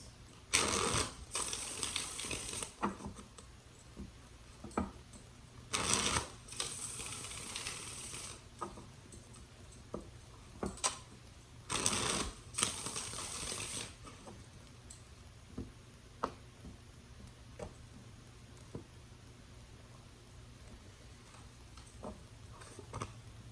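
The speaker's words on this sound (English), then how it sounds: "Let's do 3 more shuffles." Several bursts of rapid riffling and flapping as tarot cards are shuffled, three main rounds in the first half, followed by scattered soft taps and clicks.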